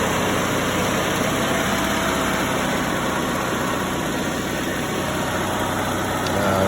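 A 2001 Onan Commercial 6500 NHD generator runs steadily at about half load, roughly 3,000 watts, giving a constant close engine drone with a low hum and no voices.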